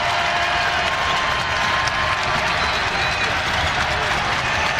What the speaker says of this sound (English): Now the crowd getting into it for the first time.